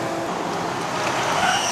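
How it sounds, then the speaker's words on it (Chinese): A Honda Civic FB 2.0S engine roars steadily under hard acceleration on a mountain road climb, a dense continuous drone that rises slightly in pitch toward the end, heard from inside the car. "感觉好像听到 VTEC 声，有没有 ？Honda 的声音就是好听的 engine。"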